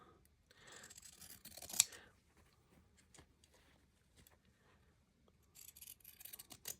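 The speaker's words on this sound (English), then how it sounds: "Oh, those are pinking shears." Pinking shears cut paper in a quiet room with a few crisp snipping and crunching strokes, one sharp snip standing out, followed by soft handling noises and a brief burst of further cutting.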